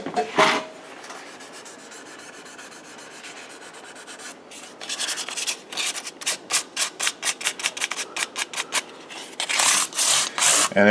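Fine 800-grit sandpaper rubs back and forth over the metal frets of a guitar fingerboard, close up, first as a steady scrub and then as a quick rhythmic series of short rasping strokes.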